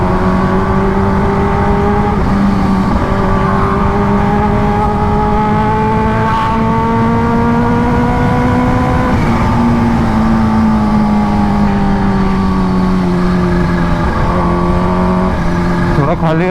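Kawasaki Ninja H2 motorcycle cruising along an open road, a loud steady engine drone with gently rising and falling pitch as the throttle shifts, dominating throughout, with a voice talking over it.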